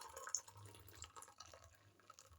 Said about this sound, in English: draining the excess water.